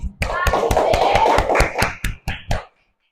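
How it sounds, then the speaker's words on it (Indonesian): A small group in a classroom claps in scattered, sharp beats for a student group's presentation during a teaching practice session, with children's voices talking underneath before the claps thin out and stop. "Berikan tepuk tangan untuk kelompok visual"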